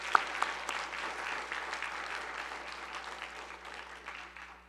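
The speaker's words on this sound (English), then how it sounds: "can we give a round of applause to" Auditorium audience at a scientific workshop applauding, a dense, sustained patter of many hands clapping that fades slightly toward the end, heard from within the room.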